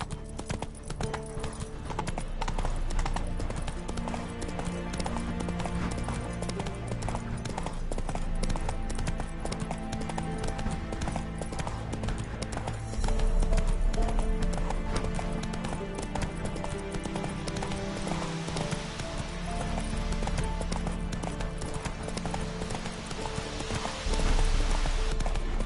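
Roach the horse clip-clops at a steady trot in The Witcher 3: Wild Hunt, hoofbeats tapping in a continuous even rhythm over game ambience and music for the whole stretch.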